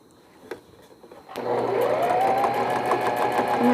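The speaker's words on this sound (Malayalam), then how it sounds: "ഇനി പൈപ്പിങ് സെക്കൻഡ് സ്റ്റിച്ച്, ചുറ്റുമുള്ള പൈപ്പിങ് സ്റ്റിച്ച് ചെയ്യാം" Sewing machine stitching piping around a newborn baby vest, starting after a couple of clicks and running as a steady, loud, whirring motor drone with a fast stitch rhythm and a rising pitch.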